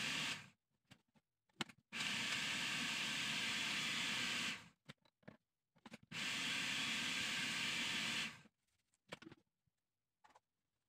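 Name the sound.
blender mixing milk and Oreo cookies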